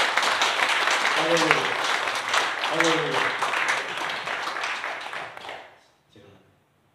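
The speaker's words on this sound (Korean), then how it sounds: "그런 의미에서 영광의 박수를 하나님께 한번" Church congregation applauding during a thanksgiving service, sustained loud clapping from a full room that tapers off and stops, with voices speaking over it at moments.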